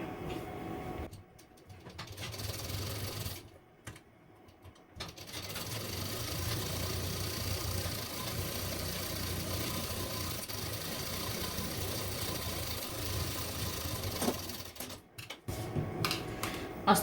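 A sewing machine runs steadily as it stitches blouse fabric for a princess-cut blouse, a continuous mechanical whir broken by a few short pauses near the start and end.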